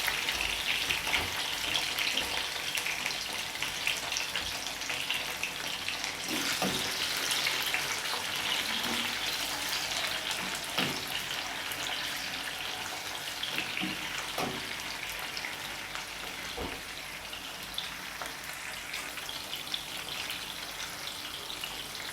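Fresh herbs sautéing in canola oil in a skillet give a steady, close sizzle and crackle that runs without a break, with occasional sharper pops and no talking.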